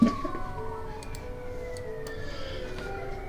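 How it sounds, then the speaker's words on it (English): Police sirens wail far off outside a building, a steady, gliding tone sitting faint and continuous under a low background hum, with no voices. "You start to hear some police sirens in the distance."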